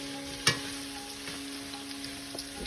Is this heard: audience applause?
no